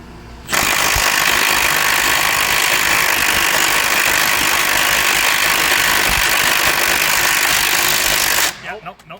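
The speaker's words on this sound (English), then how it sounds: "Fully charged battery. Full max." A Milwaukee M18 Fuel 1/2-inch mid-torque impact wrench with a weighted socket, on a fully charged battery at full max setting, hammers hard at a Honda bolt in one loud, continuous burst of about eight seconds, then stops.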